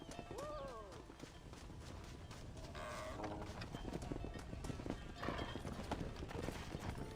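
Horse hooves clip-clop steadily across the whole stretch in Red Dead Redemption, mixed with game sounds and a brief whinny near the start.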